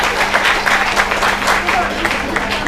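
An audience at a company awards event applauding, dense clapping from many hands rising and falling in waves, with a voice speaking over it.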